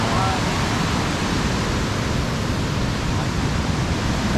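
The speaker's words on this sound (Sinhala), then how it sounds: "වතුර ගලාගෙන යන විදිය." Flowing water in Jasper National Park rushes in a dense, steady roar, close and loud, filling the whole scene without a break.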